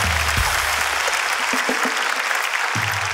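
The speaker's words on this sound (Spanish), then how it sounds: "Un fuerte aplauso." An audience applauds at a Spanish-language comedy talk show, a loud burst of clapping that carries on without pause for about three seconds.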